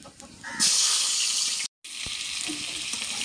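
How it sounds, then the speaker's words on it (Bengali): Potatoes frying in oil with salt and turmeric, a loud close sizzle that surges up suddenly, breaks off for a moment, then resumes as a steady crackling hiss. "দেখুন আলুগুলো আমি তেলের মধ্যে ভেজে নিচ্ছি।"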